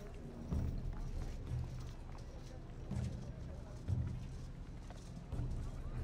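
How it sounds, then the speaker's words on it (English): Horses cut loose and galloping through an enemy camp in the Game of Thrones Telltale video game, a rumbling run of low hoof thuds with periodic heavier pounding bursts, steady and fairly close throughout. "Cut the horses free. Send them galloping through the camp."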